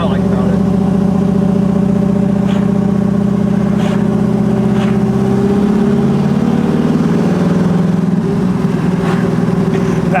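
A 1968 Camaro with a 540 cubic inch big block engine accelerates in high gear, a loud steady low rumble climbing in pitch, with people talking inside the car over it.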